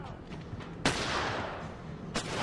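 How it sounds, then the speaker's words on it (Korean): Gunshots in The Last of Us video game, two sharp, loud single shots spaced about a second apart, each with a short decaying tail, over faint background sound. "이 앞에서 서로 한 발씩 쏘고 있어."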